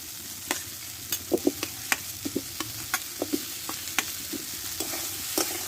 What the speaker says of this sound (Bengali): মশলার সঙ্গে ভালোভাবে আলুটাকে কষে নেব একটু